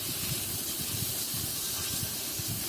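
Chuka tenga (sour leaves) sizzling in a hot pan of oil for a fish dish, a steady close hiss of frying with faint stirring, no talking.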